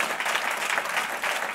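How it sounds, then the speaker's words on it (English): A crowd at a Hall of Fame ceremony applauds staff and faculty, a thick, close wash of clapping that runs steadily without a break. "get a nice round of applause for the work that they put into this"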